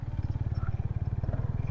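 A Fekon Venture ADV 150 motorcycle engine idles close by with a steady, fast, low pulsing throb and no change in pace.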